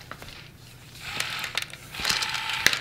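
An automatic candy dispenser's mechanism whirs and clicks as it dispenses gumballs, with soft ratcheting, sharp knocks and rolling rattles at close range.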